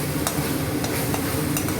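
Masala for chole frying and sizzling in a pan on low heat while being stirred, a dense crackling hiss with a few sharp scraping strokes of the spoon, close and continuous.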